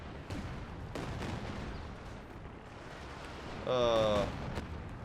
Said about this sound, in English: artillery fire is not enough to turn the tide